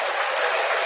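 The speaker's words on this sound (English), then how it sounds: "Round of applause for Hollywood." An audience claps in a burst of applause at a live food show, a dense, steady wash of hand claps that stays loud and close for the whole short moment.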